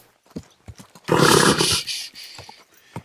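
Horse in the video game Kingdom Come: Deliverance II giving one loud, close, drawn-out neigh, framed by sparse clip-clop hoofbeats before and after.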